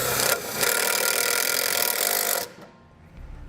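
A self-tapping screw is driven into the sheet metal of a 2015 Jeep Wrangler, a loud, close, continuous whirring grind lasting about two seconds with a brief dip near the start, then stopping abruptly into quiet handling noise.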